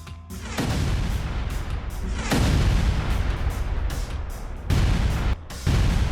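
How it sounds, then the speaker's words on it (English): A Ukrainian T-72B3 tank fires its main cannon on a frontline during a trench assault, with several heavy booms and sharp onsets that leave loud rumbling blasts and a roar that hangs between them. "The tank initiated the attack with fire from its main cannon"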